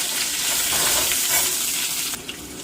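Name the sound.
sliced onion added to hot oil and stirred, sizzling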